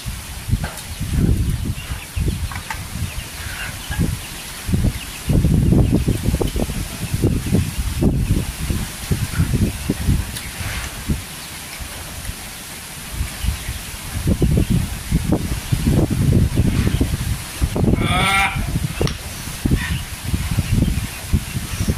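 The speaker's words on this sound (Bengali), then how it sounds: "প্রচন্ড হাওয়া, মানে অ্যাকচুয়ালি ওয়েদারটা খুব সুন্দর, মানে এত সুন্দর হাওয়া ঝড় উঠছে" Strong gusts of wind buffet the microphone in repeated heavy surges, with rustling noise in between and a brief bird call near the end.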